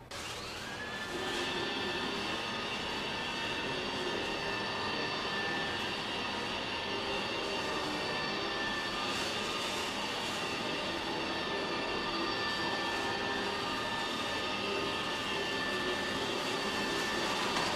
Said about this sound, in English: Neato takes a few seconds to wind up, so I'm going to hold this bag until the vacuum gets up to full speed